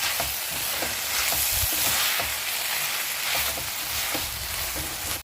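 Pepper powder gets stirred through a veg and egg noodle stir-fry in a hot pan, a loud continuous sizzle with repeated spatula scrapes, ending abruptly.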